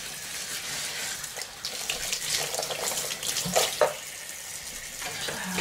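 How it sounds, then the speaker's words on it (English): A kitchen tap runs steadily into a sink while dishes are washed after baking muffins, a close, continuous hiss of water with a few clinks and splashes, and no one talking. "Washing up."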